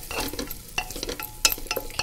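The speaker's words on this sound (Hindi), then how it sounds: "फ्राई करेंगे ताकि ये मसाले में अच्छे से आ जाए, मिक्स हो जाए।" Vegetables with garam masala fry in a pan for khichdi, giving a low sizzle under irregular scraping and clinking as a spoon stirs them close by.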